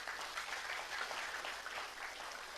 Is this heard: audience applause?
yes